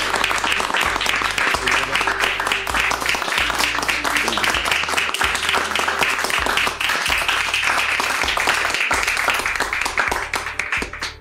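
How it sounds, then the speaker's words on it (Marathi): An audience claps loudly and steadily for Akshara madam on a Marathi TV show stage, a dense, sustained round of applause lasting the whole stretch over low background music. "जोरदार टाळ्या आपण एकदा अक्षरा मॅडम साठी वाजवू."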